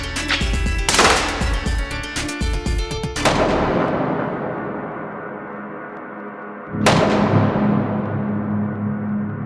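Gunfire from a firearm at close range, a rapid burst of loud cracking shots followed by a pause and another sharp report with a long echoing decay.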